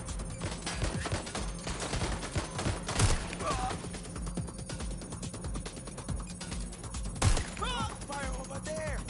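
Rapid bursts of gunfire crackle through a noisy skirmish, with a voice calling out over the shooting, which repeats in dense fusillades across the whole stretch.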